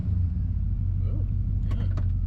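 An old van's engine idles with a low, steady rumble close by as the vehicle begins to move, with a few brief clicks and mechanical sounds near the end.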